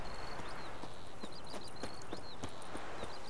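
A horse's hooves clip-clop in a steady walking rhythm in The Witcher 3, over a constant bed of ambient game noise with high chirping birds.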